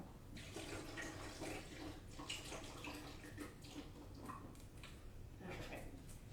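Tap water runs steadily into a kitchen sink to rinse canned chickpeas for hummus, a continuous soft splashing hiss throughout with faint speech-like sounds in the background.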